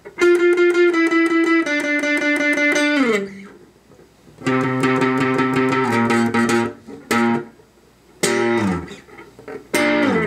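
Distorted electric guitar plays a riff that bends downward in slides, with short gaps and stabbed notes between, loud and close.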